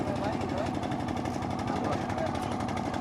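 A boat engine chugs in a steady, droning rhythm while crossing a river near Tahirpur, Sunamganj, with people talking over it.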